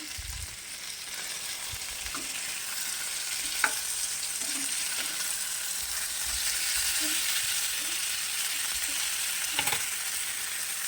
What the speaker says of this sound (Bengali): তেলটা একটু গরম করে নিয়েছি এখন লেগ পিসগুলো দিয়ে দেবো